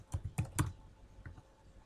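Short burst of keystrokes on a computer keyboard while entering spreadsheet values, four or five quick soft clicks followed by a couple of fainter taps, quiet and close.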